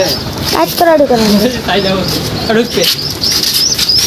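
Pigeons on a farm being shifted into a new cage, with wing flaps and flutters mixed with soft coos and chirps throughout, close and fairly loud, while people talk over them.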